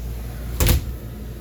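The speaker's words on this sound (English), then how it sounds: "I'm going to open this up here. Glass shower door." A glass shower door in the bathroom of a 2009 Forest River Lexington Grand Touring Class C motor home gives a single short, close thump as it moves, set against steady low background hum.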